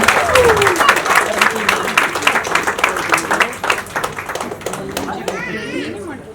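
Loud applause fills a hall at the launch of a news channel by a state home minister, dense clapping from a crowd that tapers off with a voice speaking near the end.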